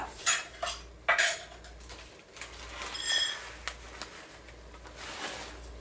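A spoon stirs 1.5 cups of lentils into a pot for a spicy lentil side dish in an Instant Pot, making close, irregular scraping and clinking against the metal with brief louder knocks.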